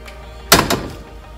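A college dorm room door swings and shuts with a short wooden thunk and a quick second knock just after, close by and alone against quiet room tone.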